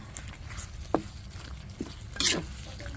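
Sliced onions fry with cooked beef in a pan for beefsteak, a low steady sizzle broken by a few sharp scraping stirs and one brief louder spatter, close by with no talking.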